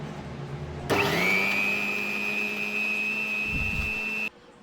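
A mixer grinder whirs loudly as it grinds onion and tomato into a paste for an aloo matar kurma, starting abruptly, holding a steady high motor whine for about three seconds, then cutting off.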